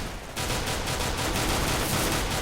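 P250 pistol shots in the video game CS:GO come as a dense, loud volley of rapid gunfire that starts abruptly and continues without pause to the end.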